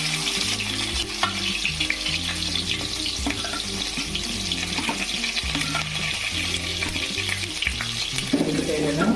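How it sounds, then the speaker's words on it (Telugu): Chopped onions hit hot oil for a fish curry, giving a loud, continuous frying sizzle with spatula scrapes and clatter throughout, no talking. "బాగా మరి నూనెలోన ఇప్పుడు మనం తరిగి ఉంచుకున్న ఉల్లిపాయలను"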